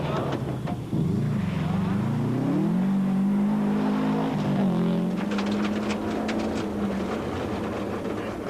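A Class N4 Subaru Impreza WRX rally car, a standard road car running a 32mm restrictor, races along a rally stage in South Africa, its engine loud and close, revving and holding a steady drone with gear changes throughout.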